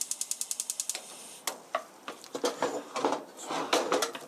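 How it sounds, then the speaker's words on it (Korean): A gas stove knob clicks through a rapid, even run of sharp ratcheting ticks as it is turned up to medium heat for stir-frying vegetable spaghetti, followed by scattered clatters and scraping of kitchen utensils. "불을 조금 켜는 게 나을 것 같은데"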